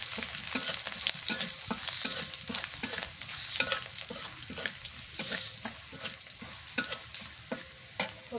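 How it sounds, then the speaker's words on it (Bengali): Chopped onion frying in hot oil, a steady close sizzle broken by regular scraping strokes of a spatula stirring the pan, with no voices. "লাল লাল করে ভাজি।"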